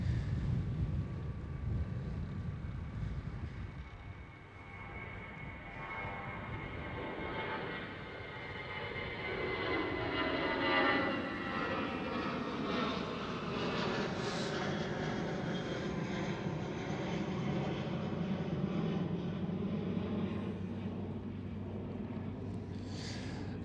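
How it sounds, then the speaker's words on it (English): A Turkish Airlines Airbus A330 lines up on the runway at Amsterdam Schiphol, its jet engines giving a steady distant roar with a rising, shifting whine, heard through wind noise and without talk. "It looks like a Turkish Airlines A330 lining up for runway 24."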